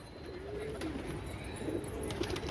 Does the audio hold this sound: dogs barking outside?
no